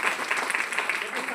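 An audience at a health awareness program applauds with a dense, steady wash of clapping, fairly close and even for a short stretch, with voices mixed in.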